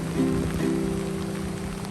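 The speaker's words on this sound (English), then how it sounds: "the rain started pouring so hard to the point where my pants were drenched all the way to my thighs" Heavy rain pours steadily on the streets of Unazuki Onsen in Japan, a dense hiss close to the microphone with a faint tonal hum underneath and no talk.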